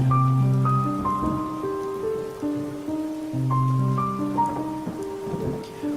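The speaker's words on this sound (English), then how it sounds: "the drumming of the rain" Steady rain drums in the background while soft piano notes ring out over it, with no voices.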